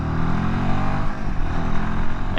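Royal Enfield Himalayan motorcycle engine, a roughly 40-horsepower bike, holding a loud steady rev around 5,000 RPM with a dense harmonic drone and no talk over it.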